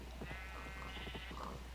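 A wool sheep in a video game gives a wavering bleat that sits faintly over a steady electrical hum and soft background noise.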